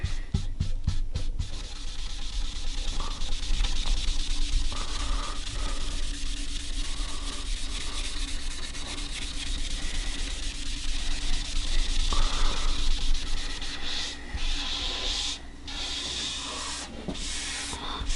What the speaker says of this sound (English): I sort of resanded it again to make sure all the scratches were out.